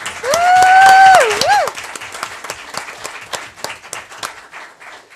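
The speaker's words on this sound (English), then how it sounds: "One final round of applause for our Briggs students." A crowd bursts into loud, sustained applause for students, many hands clapping at once, while a high whistle-like tone rises over the start and the clapping gradually thins.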